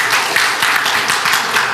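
Church congregation applauding after a sermon, a short burst of steady, dense clapping filling the room, fairly loud and without talk.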